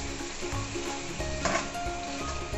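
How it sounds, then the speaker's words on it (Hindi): Mutton bhuna gosht roasting in oil in a pan gives a steady crackling sizzle with occasional stirring scrapes, close and moderate in level, with no talking. "तकरीबन 5 से 7 मिनट मुझे हो चुके हैं गोश्त को भूनते हुए और ऑयल भी ऊपर आ चुका है।"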